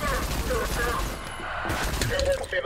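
Explosions from the video game ADACA, dense crashing bursts and debris clatter filling the stretch, loud and continuous, with someone talking over them.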